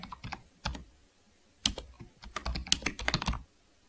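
Keys tapped on a computer keyboard, typing a short title in video editing software: a quick burst of clicks, a pause, then a denser run of keystrokes, close and fairly quiet with no talking.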